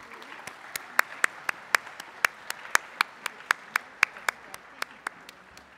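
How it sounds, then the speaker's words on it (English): Scattered, sparse clapping at a Catholic college assembly for students, with a few distinct claps at a steady pace, fairly faint over a quiet room. "Could we please give a round of applause for these students?"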